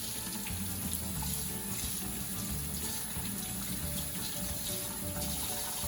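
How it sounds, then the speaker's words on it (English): Hands are washed under a kitchen tap while baking cupcakes, the running water a steady, close, continuous splash with faint rubbing throughout and no talking. "Now we have to wash my hands again."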